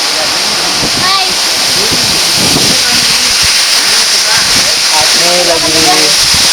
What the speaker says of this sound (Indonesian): Ya, ini air terjun, saya kurang tahu namanya.